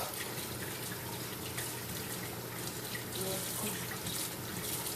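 Tap water running steadily into a kitchen sink while carrots are rinsed, a continuous hissing splash with faint drips, fairly quiet and unbroken for the whole stretch.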